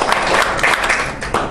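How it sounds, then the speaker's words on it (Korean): Brief burst of audience applause at a Korean international diplomacy and security forum, a dense patter of many hands clapping, close and fairly loud, with no voices over it. "박수 한번 다시 한번 부탁해요"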